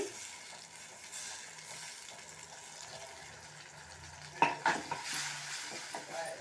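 Dried red chillies are tempered in hot oil for a coriander chutney. A faint steady sizzle runs underneath, and a few sharp clinks and scrapes of a utensil against the pan come near the end.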